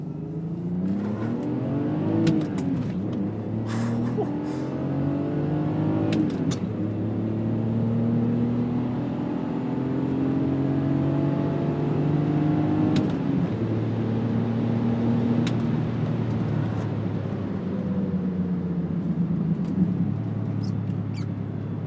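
Manual BMW X5 SUV with a 3-liter engine revving hard under acceleration, a steady close engine drone whose pitch climbs in several long sweeps as gears change, continuous and fairly loud with no talk.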